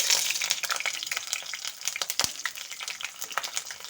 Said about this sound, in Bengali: আঁচটাকে মিডিয়ামে দিয়ে আলু ফুলকপিগুলোকে একটু লাল লাল করে ভেজে নেব